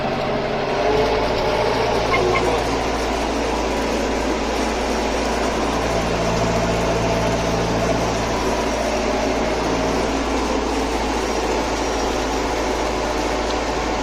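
A tractor's heavy diesel engine runs steadily at close range, a constant loud droning rumble with no voices.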